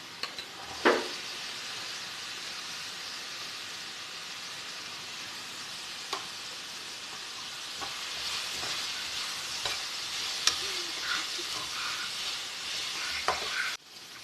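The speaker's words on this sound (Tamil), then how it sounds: "நான் 2 மீடியம் சைஸ் வெங்காயத்தை கட் பண்ணி வச்சுருக்கேன், அதை சேர்த்துக்கிறேன்" Two medium-size chopped onions frying in a pan for chicken, a steady soft sizzle with occasional scrapes and clicks of a spoon stirring through them.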